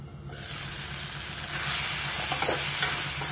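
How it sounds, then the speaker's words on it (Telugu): Tomato and ivy gourd sizzling in a pan as they are stirred, a steady close frying hiss with soft scraping of the spoon, growing slightly louder partway through. "ఇది కొంచెం బాగా మగ్గించుకొని ఒక 5 నిమిషాలు మగ్గించుకోవాలి."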